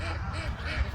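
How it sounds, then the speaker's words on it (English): A duck quacks at a farm during a visit, a brief close call amid steady low background noise and faint nearby voices. "That's a duck."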